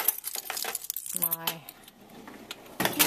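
A bunch of keys jangles briefly, close by, as they are hooked onto a finger before heading off to the photocopier, with a person talking over and around the metallic rattle.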